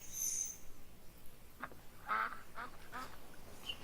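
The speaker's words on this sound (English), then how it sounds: "Took me ages to figure out where these duck noises were coming from" Ducks in Farming Simulator 17, on the PV Rivers reloaded map, give a short run of faint, fairly distant quacks over a soft outdoor ambience.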